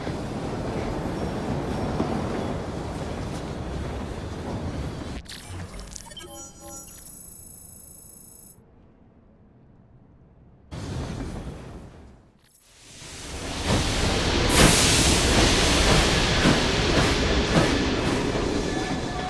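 A train running in the Assassin's Creed Syndicate video game rumbles and rattles loudly, dropping away into near silence midway before surging back with heavy rolling noise; game voices are faintly present.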